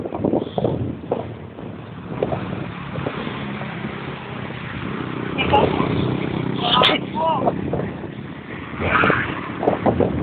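Strong wind buffets the microphone on the San Juanico Bridge with a steady low roar, gusting louder in the second half, while people talk intermittently over it.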